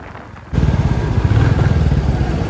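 Motorcycle ride with steady engine drone and rushing wind buffeting the mic, starting abruptly after a quiet moment and staying loud and continuous; no talk.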